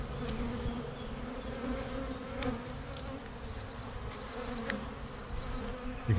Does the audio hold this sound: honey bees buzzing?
yes